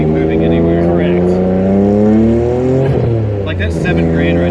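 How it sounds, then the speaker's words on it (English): A small turbocharged Suzuki Alto Works RSX kei car engine revs high in a steady rising drone, loud and close, while people talk over it inside the car. "I can hear the turbo. It sounds like a little dentist drill."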